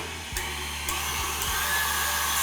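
An electric mixer whisks egg whites into meringue with a steady, close whirring hum, its motor tone dipping briefly a few times as the beaters are moved.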